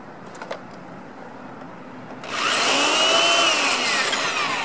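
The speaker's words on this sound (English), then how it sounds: "the drill can actually fit underneath the space, and he pretty much got a good angle to get it in at a right angle" A power drill bores a hole into the bumper of a BMW Z4 to mount a license plate bracket. After a quiet stretch it starts abruptly into a loud, close, high whine that shifts in pitch as it cuts.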